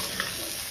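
Mixed vegetables sizzle in hot oil in a pan with a ground paste of garlic, fresh coconut, sesame, coriander and curry leaves as they are stirred, a steady close frying hiss with no voices.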